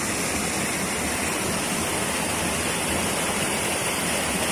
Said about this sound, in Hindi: बहुत सारा पानी मेरे ख्याल से एक्सेस वाटर को यहाँ से छोड़ा जाता है, और ये काफी आवाज के साथ